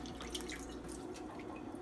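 Sea moss being rinsed with water in a kitchen sink gives a faint, close trickle with scattered drips, and no talking.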